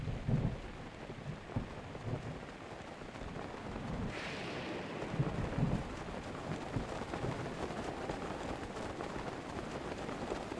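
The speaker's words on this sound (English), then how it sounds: "Thunderstorm, though." Thunderstorm from The Legend of Zelda: Breath of the Wild, a steady wash of rain with low rumbling thunder rolls and a brief brighter crackle partway through, continuous and fairly close throughout with no talking.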